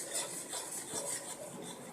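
Chopped almonds being stirred into thick milk rabri in a pan, a soft rasping, scraping rub repeated in a quick rhythm, close and fairly quiet, with no talking.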